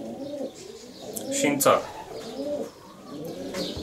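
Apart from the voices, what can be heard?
racing pigeons cooing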